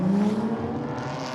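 GT4 race cars, a BMW among them, race at Hampton Downs, a steady engine drone holding a strong low tone that fades slightly as the cars move away.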